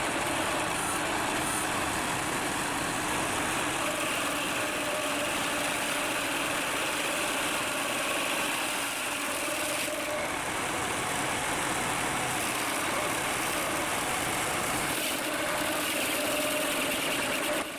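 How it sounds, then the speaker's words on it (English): A stump grinder's heavy engine roars steadily and loudly throughout, a constant dense mechanical drone with no talking. "The stump grinder starts with a loud roar as the engine powers up."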